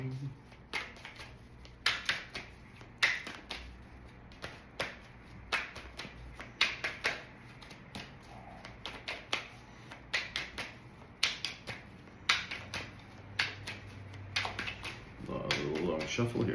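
Tarot cards being shuffled at length in a quiet room, a stream of soft riffling and snapping bursts with brief pauses between them.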